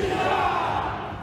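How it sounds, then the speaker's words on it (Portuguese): Football fans in a Brazilian stadium chant together in a loud, massed roar of voices that holds briefly and then eases off slightly at the end. "A FIFA pune grito de torcida que já virou mania nos estádios"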